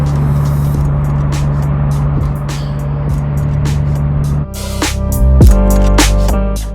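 BMW 335i engine and exhaust while driving, a steady drone with a low hum that jumps louder partway through as the revs rise, with sharp bursts near the end.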